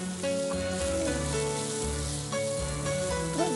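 Papaya with coriander powder and chilli fries in a pan, a soft steady sizzle broken by faint scrapes of stirring, heard alone with no voices.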